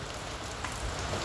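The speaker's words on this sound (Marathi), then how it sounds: "पाऊस" Steady rain falls in an even, close hiss that patters across hard surfaces without a break, with no voices over it.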